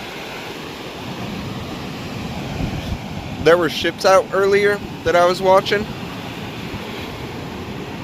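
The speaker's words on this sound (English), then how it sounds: "The sea is so powerful. It's so powerful. It's getting me. Probably because it's windy as hell." Steady wind and sea surf roar fills the background on a very windy shore, with someone talking briefly over the rushing noise.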